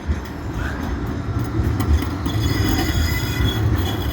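A Blackpool tram rolls past on rails near Gynn Square in North Blackpool, a steady rumble with wheel squeal running the whole way through, close by and loud, with no talking.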